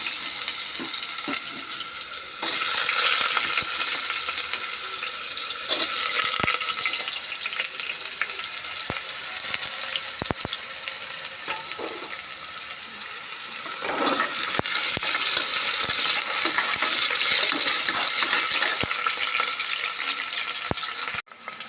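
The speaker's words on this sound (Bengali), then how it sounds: "আগে আলু দিয়ে একটু ভাজি আলু" Potatoes fry in hot oil in a pan, a loud sustained sizzle with bursts of hissing and repeated scraping and clicking stirs up close, with no voices.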